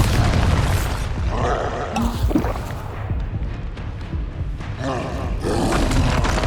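A Bombarda spell explosion in the video game Hogwarts Legacy, a loud booming blast with a roaring, rumbling tail that swells again near the end.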